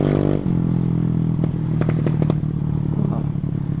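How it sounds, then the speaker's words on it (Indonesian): Honda Vario scooter fitted with an electric turbo, its loud close engine drone dropping off as the throttle closes, then a quick burst of sharp backfire pops and crackles over the idling motor, with no voices. "Backfire-nya juga oke cuy."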